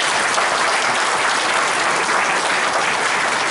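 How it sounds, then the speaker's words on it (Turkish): A seated audience at a members' meeting gives sustained, dense applause of thanks to the speakers, continuous and loud from start to finish. "bir kere daha teşekkür anlamında alkışlayalım"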